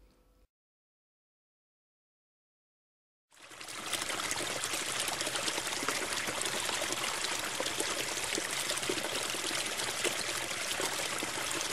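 River water flows along the banks of the Tirón, a steady rushing trickle that starts abruptly after a short silence and then holds a constant, moderately loud level.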